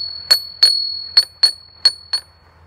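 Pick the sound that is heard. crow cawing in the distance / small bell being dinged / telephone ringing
small bell being dinged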